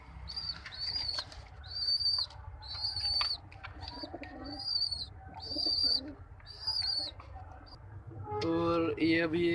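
A pigeon in a home loft claps and flutters its wings in several loud, close bursts after being let go, with repeated bird calls between the flaps and a burst of nearby voices at the end.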